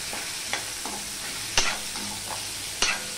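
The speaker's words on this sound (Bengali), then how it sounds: "এবার পেঁয়াজটাকে আমি ভালো করে ভেজে নেব" Onions fry in a pan for a fish jhal chorchori, a steady sizzle with a few sharp spatula scrapes and taps against the pan, close and alone with no talking.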